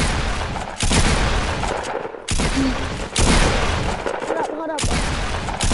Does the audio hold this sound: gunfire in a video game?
yes